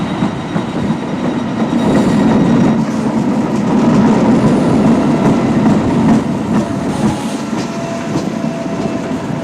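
A Tyne and Wear Metro train rolls past close by, a loud sustained rumble of wheels on rail with faint rhythmic clatter and a thin high squeal toward the end.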